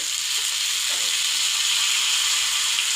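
Stuffed okra fries in oil in a pan, a loud, even hissing sizzle that holds steady for the whole stretch, with a faint stir near the middle.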